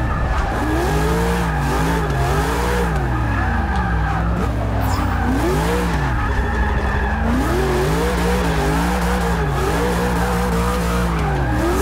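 A Chevrolet Camaro drifts in Forza Motorsport 6 with a loud, continuous engine roar and long, wavering tire squeals that rise and fall through repeated slides.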